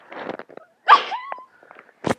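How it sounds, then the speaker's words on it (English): A single sharp sneeze bursts out near the mic, preceded by quieter voices and breathy noise, with another short burst of sound at the end. "Oh, I have to sneeze."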